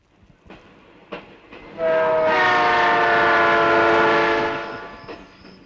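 A train passes close by, with a few clacks before a loud, sustained horn blast, harmonically rich and steady for about three seconds, then fading away.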